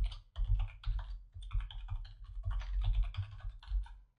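Steady typing on a computer keyboard, with close, quick key clacks in uneven bursts and no voices.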